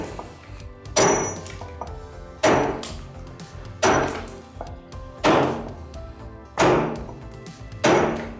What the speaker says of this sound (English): Pretty much all rock facing edge is done with a hammer and a chisel still these days